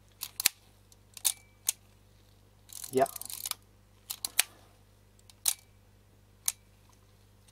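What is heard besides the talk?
cocking and firing Kodak Retina IIIc camera shutter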